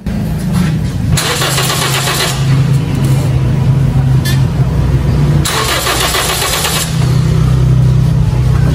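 A Toyota Vios Gen 3 is cranked and fired up during a fuel pump check, with starter bursts followed by the engine catching and idling loudly up close, restarted in short repeated attempts.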